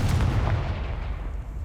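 A Confringo fire spell blasting in Hogwarts Legacy, a heavy booming burst with a deep rumbling tail that fades over a second and a half, loud and close.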